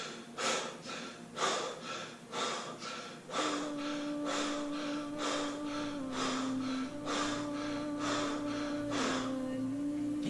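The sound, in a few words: breath work, deep breathing exercise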